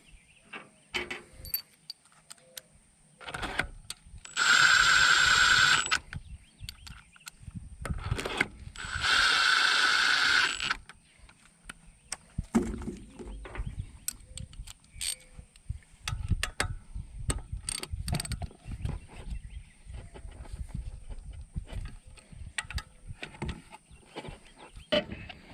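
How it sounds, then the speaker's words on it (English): Impact wrench running bolts up: two loud, sustained bursts of whirring hammering, each lasting about a second or two, separated by a pause, with quieter clinks and tool handling before, between and after. "We're just going to use the impact to run the bolts up."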